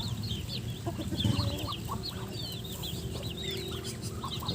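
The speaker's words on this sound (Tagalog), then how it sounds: "Malilit na sisiw yan oh." Chickens with small chicks clucking and peeping steadily as they feed on a farm, the high chick calls scattered throughout over a low, continuous bed of clucks and shuffling.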